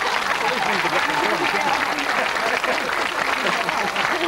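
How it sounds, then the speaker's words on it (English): Applause from a studio audience on a game show, a steady and dense burst of clapping that fills the whole clip without letting up. "Give them a round of applause."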